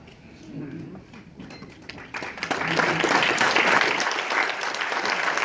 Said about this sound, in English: I'm going to ask you all to hold your applause